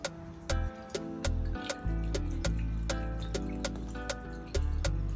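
Tripe being washed with white vinegar and water: close, splashy sloshing and dripping liquid with irregular knocks and clatters, heard alone.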